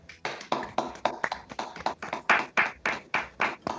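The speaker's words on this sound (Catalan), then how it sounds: "este aplaudiment va per tu" Hands clap in a quick, regular rhythm, about four claps per second, close and clear for nearly four seconds with no voices.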